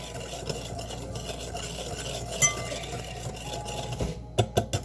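A whisk stirs a barely simmering milk mixture in a pot, producing a soft continuous scraping swirl, followed near the end by a few sharp metallic taps against the rim.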